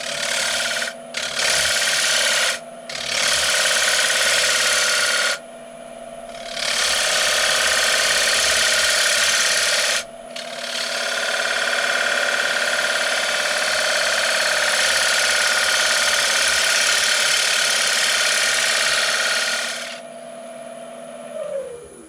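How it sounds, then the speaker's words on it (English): A wooden piece being sanded before CNC cutting, a loud sustained abrasive rasping drone in several long runs broken by brief pauses, close and steady. "This has now been sanded to 400, and that's come up quite nicely actually."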